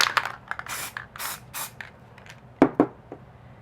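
Short hissing bursts from a graffiti spray paint can fitted with a fat nozzle, close and crisp, several quick sprays separated by clicks and rattles of the can.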